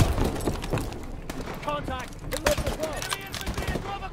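Sniper and other gunfire in the video game Call of Duty Advanced Warfare, a series of sharp shots scattered over busy game sound effects, with someone talking over much of it.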